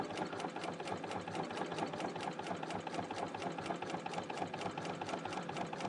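A Bernina L890 machine sews a seam along scalloped bunting edges, humming close with a steady, fast, even stitching rhythm throughout.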